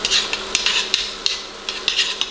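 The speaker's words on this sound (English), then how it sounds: "we're going to stir this, saute it just a little bit" Garlic and herbs are stirred and sautéed in a pan, with a spoon scraping and clicking against the metal in quick irregular strokes over a light sizzle, close up and with no voices.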